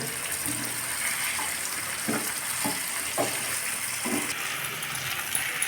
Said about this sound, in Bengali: এইভাবে মিনিটখানি ভাজা ভাজা করে নিতে হবে।